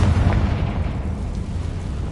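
Bombarda and Confringo spell explosions in Hogwarts Legacy, a loud heavy boom with deep low rumble that rolls on and slowly decays, dense and close.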